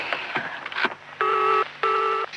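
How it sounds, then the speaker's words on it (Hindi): A few quick keypad tones, then two long steady telephone dialing beeps, close and clear with faint background noise. "पूना का एक नंबर मिलाता हूँ, जब कामनी फोन पे आए तो मुझे देना।"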